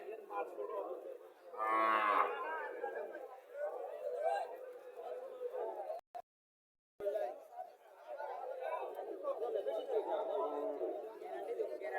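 A Haryana cow moos loudly at a busy cattle market, with one strong low call early on and a steady murmur of crowd chatter and nearby talk continuing around it.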